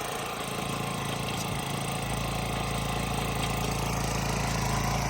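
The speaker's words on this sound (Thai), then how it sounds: "เป็นเครื่องยนต์เบนซินนะครับ" A small petrol engine on a garden tiller runs steadily at idle, a constant low chugging hum with a slight change in tone early on, no voices.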